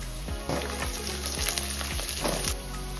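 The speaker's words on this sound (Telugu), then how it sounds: "6 జీడిపప్పు 2 టేబుల్ స్పూన్ల ఎండు కొబ్బరి ముక్కలు 1 ఇంచ్ అల్లం ముక్క 10 వెల్లుల్లి రెబ్బలు వేసుకుని ఇవి కూడా కొద్దిగా వేపుకోవాలి" Cashews, dry coconut pieces, ginger and garlic fry in hot oil, giving a steady close sizzle with faint stirring scrapes throughout.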